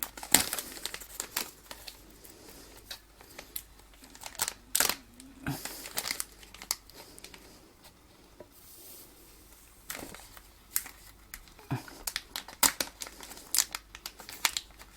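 Crinkly plastic packaging is torn and opened by hand while cooking spaghetti bolognese, making irregular close crackles and short tearing bursts with brief pauses throughout.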